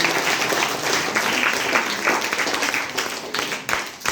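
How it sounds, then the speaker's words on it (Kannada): An audience claps for a quiz participant at a National Science Day science quiz event, with dense, sustained applause from a crowd filling the space throughout. "ರಸಪ್ರಶ್ನೆ ಭಾಗವಹಿಸಿರೋ ಅವರಿಗೆ ಮತ್ತೊಮ್ಮೆ ಜೋರಾಗಿ ಚಪ್ಪಾಳೆ"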